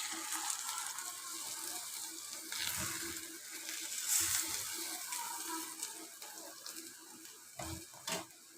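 Three eggs fry in a pan and get flipped: a continuous soft sizzle and hiss with a few scraping knocks from the turning, no voices.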